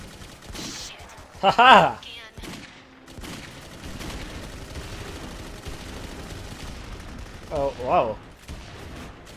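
Sniper rifle fire in Clive Barker's Jericho, with a few sharp shots and rattling gunfire under an ongoing battle, while a man laughs and exclaims over it.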